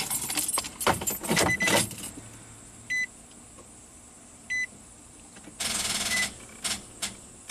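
Keys jangle as the ignition key of a Nissan Armada with a no-crank fault is turned, a few close metallic rattles at the start and again near the end, with two short electronic beeps between them.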